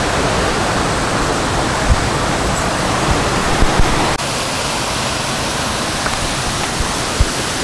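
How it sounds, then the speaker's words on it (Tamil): A forest stream flows steadily on a mountain trek at Sathuragiri, a loud, continuous broadband rush of water close by without pause or speech. "இந்த சைடு வந்து ஓடையில் வந்து தண்ணி வலிஞ்சு ஓடிட்டுருக்கு."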